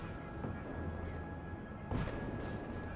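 Cannons fire in a Revolutionary War-era battle within the game Scarlet Hollow, with deep booming blasts rolling under a low ambient drone and a sharper boom near the end.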